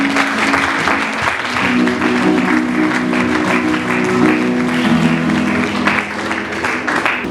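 Sustained, loud applause from a church congregation, dense clapping filling the room without a break, with a faint voice under it.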